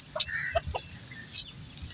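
A chicken brought home from the market clucks in short, irregular bursts at close range, with a few sharper calls standing out over a low background rumble and no talking.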